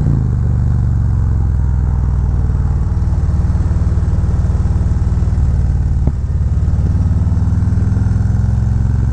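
A Harley-Davidson Road Glide rumbles loudly and steadily while being ridden, its deep engine drone continuous and close with a few faint clicks.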